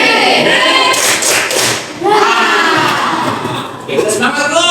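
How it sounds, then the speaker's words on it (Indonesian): A group of teachers' class participants clap a rhythmic spirit-clap pattern, loud close bursts of hand claps with thumps in sequence, mixed with voices chanting along. "Oke, tepuk semangat."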